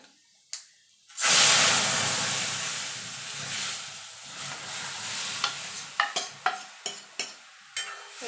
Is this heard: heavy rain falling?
no